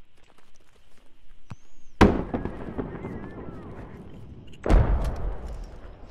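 Mortar fire in the military shooter game Squad: two heavy booming blasts a few seconds apart, each with a long rumbling tail, over faint background noise and brief talk.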